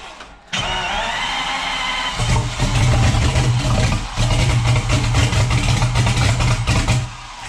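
A V12 bi-turbo engine in a Traction car cranks over, catches after a brief starter whir, then idles loudly and is revved in repeated strong, throbbing pulses, close up with no talking.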